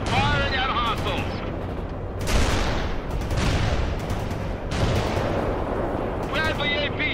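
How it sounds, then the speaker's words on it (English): Gunfire in World in Conflict, Mission 11 (Aftermath): repeated bursts of shots and heavy booms crackling over a rumbling battle bed, while clipped radio-style unit voices talk over the action. "Firing at hostiles!"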